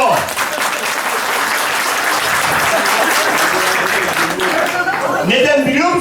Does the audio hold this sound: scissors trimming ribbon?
no